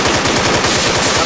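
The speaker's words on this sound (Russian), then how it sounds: "это я стрелял с калаша" Rapid automatic fire from an AK Kalashnikov rifle in the video game ARMA 3 with the DayZ Breaking Point mod, a loud, close, unbroken string of evenly spaced shots.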